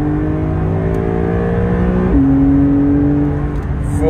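Porsche 911 992 Carrera S Cabriolet accelerating hard with the Chrono mode active, a loud close engine note climbing in pitch, dropping briefly at an upshift near the middle, then rising again.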